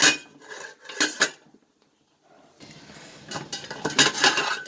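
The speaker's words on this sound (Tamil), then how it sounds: "மூடி போட்டு மூடிடலாம்" A metal lid is handled and set onto a cooking pot of cumin samba rice for vegetable biryani, making clattering clinks, then a short silence followed by a run of softer scraping knocks close by, with no talking.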